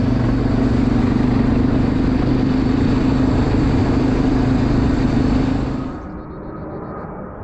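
A Honda 300 ATV with a lift kit, four-inch stretch and 29.5 Assassinator tires runs steadily with a loud, close engine rumble that drops to a quieter idle near the end.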